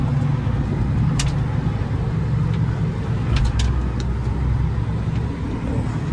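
Tractor driving along the edge of a field while plowing a corner of land, a steady low engine rumble with rolling noise, continuous and fairly close, with a few faint high clinks.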